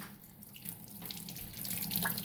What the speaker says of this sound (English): I'm just going to run the water over it like this.